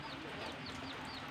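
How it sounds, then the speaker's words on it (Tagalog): Hen and chicks clucking, a soft steady run of small high peeping calls over a low farmyard bed, close and continuous with no talk. "Ito, sisiw yan."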